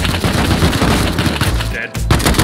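Rapid, loud gunfire crackles in a desert setting of the survival video game Rust, a dense overlapping volley of shots with a brief gap near the end before firing resumes.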